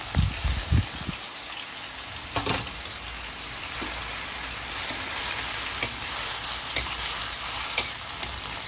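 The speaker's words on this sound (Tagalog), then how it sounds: "lagay na natin yung ating ampalaya" About two kilos of bitter gourd (ampalaya) sauté in a pan with tomato, opening with a few clattering stirs, then a steady close sizzle punctuated by light scrapes of the utensil.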